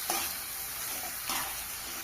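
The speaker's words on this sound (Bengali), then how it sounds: "দিয়ে ভালোভাবে আবারও কষিয়ে নেব।" Chicken curry sizzles and is stirred in a pan, giving a soft steady hiss with a couple of brief scraping swishes, quiet and close, with no talking.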